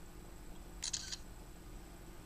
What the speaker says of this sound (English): if I take my shutter, I take a picture